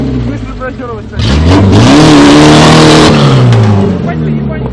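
A VAZ 2106 car revs hard during a burnout, the engine climbing to a loud sustained roar for a few seconds with tyre noise, then easing back down, close by and dominating the scene.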